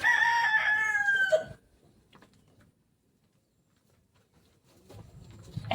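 A chicken held in someone's hands crows loudly at close range with a drawn-out, harmonic call, then falls quiet before faint rustling and a brief cluck near the end.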